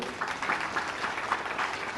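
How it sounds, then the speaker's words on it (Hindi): Steady audience applause at a spiritual discourse, a couple of seconds of continuous clapping at moderate, somewhat distant level. "एक बार ताली इनके लिए भी बजा दो"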